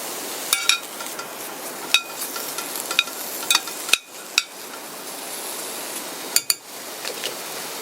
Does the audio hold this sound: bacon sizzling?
yes